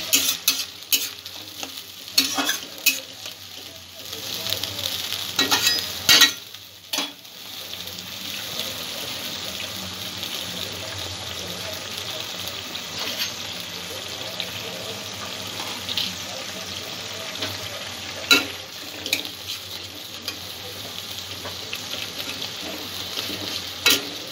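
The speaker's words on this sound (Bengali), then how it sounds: "পেঁয়াজ আদার পেস্টটা একটু ভেজে নেব যতক্ষণ না কাঁচা গন্ধটা চলে যাচ্ছে" Onion and ginger paste frying in a pan for a vegetable korma, a steady close sizzle with bursts of stirring and scraping, loudest in the opening seconds.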